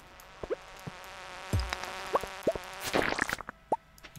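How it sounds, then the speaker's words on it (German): Swarms of flying insect creatures in the Stardew Valley video game, with buzzing wingbeats and short chirping, plopping game effects popping up one after another over a steady background hum, close and without talk. "Da kommen ganz viele Fliegeviecher."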